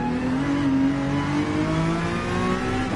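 A race car engine in Gran Turismo 7 drones through a gear, its pitch sliding gradually downward as the revs fall under engine braking, steady and fairly close throughout.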